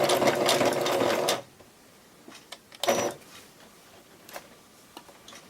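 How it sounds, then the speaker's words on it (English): A sewing machine runs a zigzag stitch on fabric in a quick mechanical burst for over a second, stops, then gives another short burst, with faint ticks and clicks between, heard up close. "we're going to stitch that down. I'm using a zigzag stitch"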